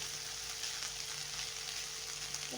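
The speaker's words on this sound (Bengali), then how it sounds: "লচ্ছন ভাজি করছি" Garlic fried with coconut in a pan gives a steady, moderate hiss of sizzling oil that runs unbroken throughout, with no talking.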